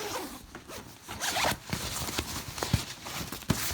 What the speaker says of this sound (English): Zip off here.